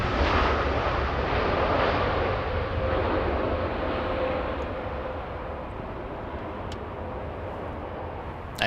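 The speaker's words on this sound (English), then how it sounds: "And the Dreamliner in front of us, landing in front of us." A Boeing 787 Dreamliner lands at Los Angeles International Airport, heard as a broad, steady jet roar from a distance that eases slightly toward the end.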